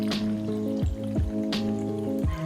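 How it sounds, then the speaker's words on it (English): Water poured from a container into a glass of lemonade with chia seeds, bubbling glugs and drips in a close, uneven rhythm, with the pitch of the liquid changing as it fills. "Finish it off with some water."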